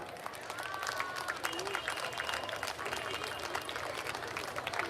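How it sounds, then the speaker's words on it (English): An audience at a school annual prize day applauds steadily, a dense, continuous patter of many hands filling the room, with faint voices mixed in beneath the clapping. "Children, we all deserve a louder applause, I think so."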